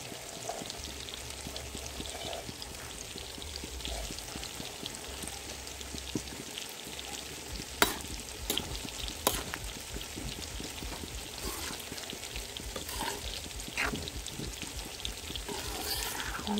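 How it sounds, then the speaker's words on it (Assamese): Potatoes, tomatoes, green chilies and peas fry in a pan with a steady, rain-like crackling sizzle throughout, broken by a few sharp utensil taps midway, heard close and without any voices. "খাবলৈ আলু ফ্ৰাই কৰিছোঁ আলু আৰু বিলাহী কেঁচা জলকীয়া কেইটামান লগাইছোঁ"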